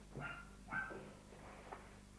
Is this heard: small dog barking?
yes